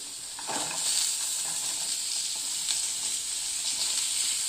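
Onions sauté with salt and turmeric in a pan, a bright close sizzle with soft stirring scrapes that holds steady after a brief quieter start, with no voices.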